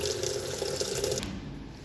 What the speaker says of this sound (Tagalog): tumutulo pa rin sa loob kahit patay yung washing machine